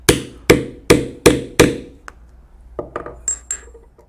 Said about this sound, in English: put the cap on, and drive it down with the setter.